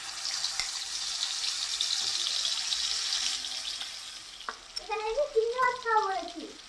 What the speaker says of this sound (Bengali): চিংড়ি মাছ রান্না করছি